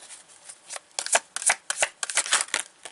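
An oracle card deck is shuffled by hand in a close series of crisp riffling bursts, about a dozen quick papery flutters across three seconds, with no talking.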